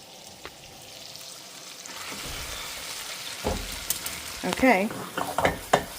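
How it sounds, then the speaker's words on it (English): Potato flour dough sautéing in butter in a pan, a steady sizzle with stirring and scraping that grows busier toward the end, with a brief word spoken over it. "Going to let it saute and cook."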